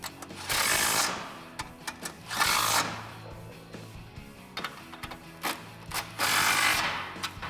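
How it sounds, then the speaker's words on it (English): An 18mm deep socket on a ratchet or impact tool tightens the bolts of a Barricade Extreme HD front bumper on a 2014-2015 Silverado 1500, sounding in several loud whirring bursts separated by clicks and quieter gaps. "Grab your 18mm deep socket and tighten them down on both sides."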